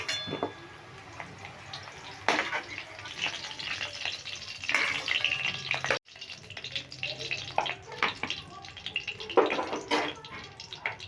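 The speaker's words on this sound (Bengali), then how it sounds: "এবার ভেজে নেব ডাটা ডাটাগুলো আমি ভেজে নিচ্ছি" Vegetable stalks for shukto frying in oil in a pan, a continuous close sizzle with stirring scrapes and occasional louder bursts, a voice talking over it at times.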